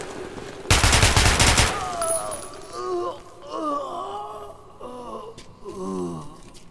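Gunfire in the video game Metro Last Light, a dense loud burst of rapid shots lasting about a second, followed by wailing and groaning game voices.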